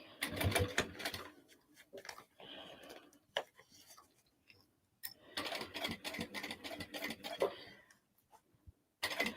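A sewing machine stitches a crossbody bag in fast, rattling bursts of needle strokes, stopping and starting several times with short pauses between runs.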